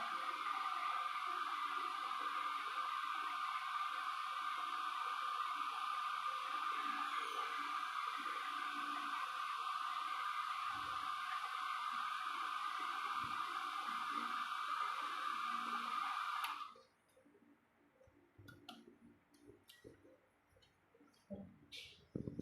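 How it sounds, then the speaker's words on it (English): Hair dryer blowing on chromatography paper in a biochemistry practical, a steady whirring hiss that runs continuously for about sixteen seconds, then cuts off and leaves faint handling clicks and rustles. "We can dry this with the help of this hair dryer tool."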